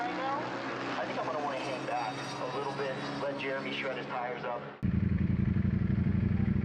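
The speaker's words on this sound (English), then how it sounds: "It's just this wild mix of bikes and sounds going around the track at the same time." A mix of motorcycles races around the Laguna Seca track, their engines droning and whining in overlapping passes at a moderate distance, followed by a sudden cut to a louder, closer, rumbling engine.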